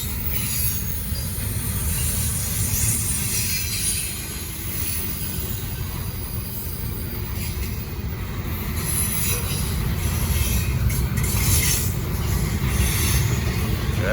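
A short freight train rolls past at close range, a steady heavy rumble of railcars with squealing wheels and occasional metallic screeches rising over the continuous roar.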